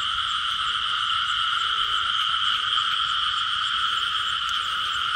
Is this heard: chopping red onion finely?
no